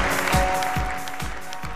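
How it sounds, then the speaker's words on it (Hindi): A studio audience at a quiz show claps for a winner, a steady broadband patter of applause filling the room with a few louder rhythmic thumps. "दोस्तों की भरपूर तालियां"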